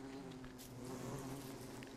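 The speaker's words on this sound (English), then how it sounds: "Run away from the bee box once I get all the honey." Bees swarm around a bee box in the video game Don't Starve, giving a steady, continuous low buzz that holds at an even level for the whole stretch, faint and alone with no talking.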